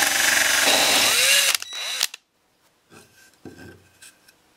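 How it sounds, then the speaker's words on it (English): An adjustable hole saw set to 1¼ inches cuts through a plastic cap, giving loud grinding and rasping for about a second and a half, then a shorter burst, followed by quieter handling noises and scraping. "I've bought one of these adjustable hole saws, and you can twist these discs to make these bits come in and out, and I've adjusted it to drill 1¼ inches hole."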